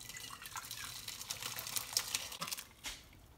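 Curdled milk draining through a cotton cloth laid in a big strainer, a soft close trickle and patter of liquid with small drips, faint and continuous with no talking.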